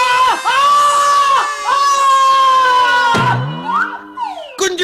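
A loud, drawn-out cartoon scream in an animated moral tale, a wavering high voice held for about three seconds, breaking into a falling wail and then a short rising cry.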